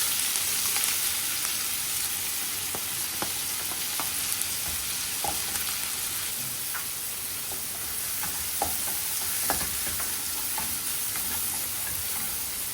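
Chopped onion and bay leaf fry in oil in a pan for an egg dish, a steady close sizzle with occasional clicks of stirring, no voices.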